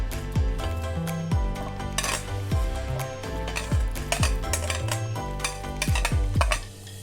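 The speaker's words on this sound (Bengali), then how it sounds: "এইবারে আমি এই পাউরুটির গুঁড়োটা এর মধ্যে মিশিয়ে দিচ্ছি পুরোটা" Breadcrumbs being stirred into a finely ground chicken paste for homemade nuggets, a steady scraping and knocking of a utensil against a bowl with repeated clinks, close and continuous under background music tones.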